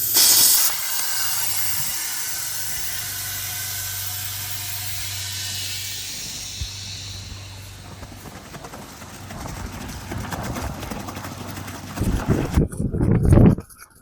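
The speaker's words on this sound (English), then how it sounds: "now we'll connect our air compressor" Air compressor pushing air through pool plumbing lines as a pool is winterized: a steady loud hiss with a low hum underneath, fading somewhat midway, then turning into rougher bursts and gurgling near the end.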